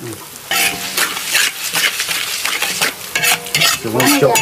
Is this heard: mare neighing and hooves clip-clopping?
no